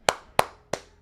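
Three sharp hand claps spaced evenly about a third of a second apart, close and crisp, each with a short decay, and no talk.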